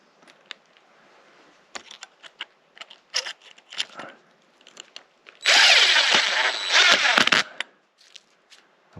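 A power drill drives a screw to fasten a killer clip for a marten trap outdoors in Québec, a loud close whirring burst of about two seconds following a stretch of scattered clicks and handling knocks.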